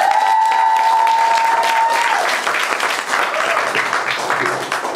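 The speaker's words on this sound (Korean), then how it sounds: "박수 한번 주세요" A crowd at a music night at the Sangsang Madang venue breaks into loud, dense applause, a tone or cheer rising over it at the start before the clapping carries on steadily.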